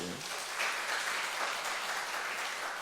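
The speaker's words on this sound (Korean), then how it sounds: "한번 박수 한번 보내주세요." Church congregation clapping together at a Sunday afternoon service, a steady dense applause that holds evenly from start to finish without any voices on top.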